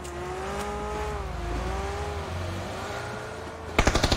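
A car engine drones steadily in a video game, its pitch wavering gently as the vehicle is driven, then a quick burst of sharp impacts strikes near the end.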